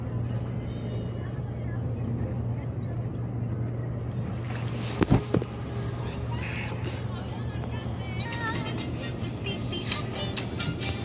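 A boat drifting on a river current pushed by wind-driven waves, with a steady low engine-like hum and wind buffeting throughout, water splashing faintly, and a sharp knock midway while people talk nearby.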